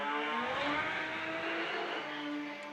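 A Toyota Starlet drag car launches hard at a drag strip event, engine revving loud and rising as the tyres spin and squeal, a short intense burst heard from a moderate distance.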